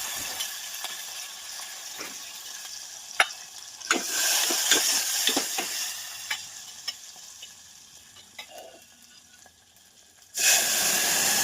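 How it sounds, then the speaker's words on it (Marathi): Chili and coriander sizzling and frying in a hot pan while dal is cooked, with steady crackling, scattered sharp pops, stirring clatter, and a sudden louder burst of sizzle near the end. "आता मिरची, बघा कसं तर आता टाकलं कोथिंबीर."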